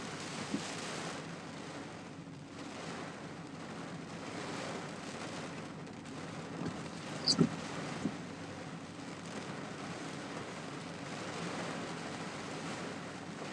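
Hurricane Helene wind roaring steadily and loud at close range, a broad continuous rush with buffeting on the microphone and a few brief louder gusts or knocks partway through.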